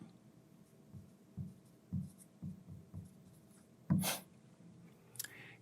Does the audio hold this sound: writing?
yes